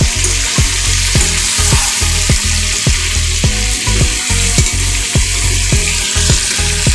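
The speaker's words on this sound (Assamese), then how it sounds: "ঢাকনখন দাঙি মই আকৌ এবাৰ লৰাই দিছোঁ।" Duck curry with potatoes stirred in a pot, a steady run of scraping strokes roughly every half second over a continuous close sizzle, with no talking.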